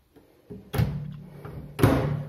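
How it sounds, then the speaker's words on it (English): By hand, a microwave door is pushed shut, producing two distinct thuds with a soft knock between them, close and clear, with no voices. "Then right hand, close the door."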